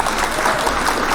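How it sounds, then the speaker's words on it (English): Steady applause from a live crowd, continuous and even across the moment, with no distinct voices standing out. "Hit the clap for Vanessa Rodriguez Aguirre."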